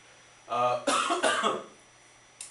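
A short, close-up burst of coughing from a sick man, with a throaty rasp that fades out after a couple of hacks.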